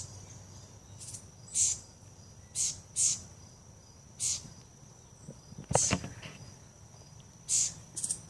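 Outdoors, a bird gives short, high calls at irregular intervals, about seven chirps spread over several seconds, fairly near, over a faint insect hum and soft ambient rumble, with a brief knock partway through.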